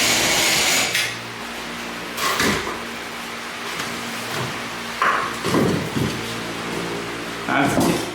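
Drywall is cut on one side only, slowly, giving a few loud rasping and scraping strokes in short separate bursts over a steady background hum, with no talk during the cutting.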